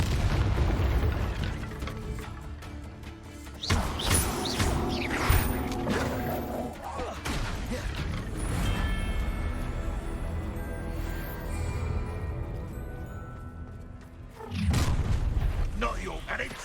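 Spell blasts from the Confringo fire spell in Hogwarts Legacy, a run of loud booming bursts and pops scattered through busy combat, with character voices calling out between the hits.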